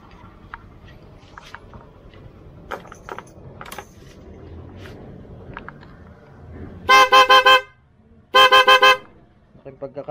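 A PIAA snail car horn blasts twice near the end, loud bright pulsing honks about a second each, after a stretch of quiet clinks and faint handling noises.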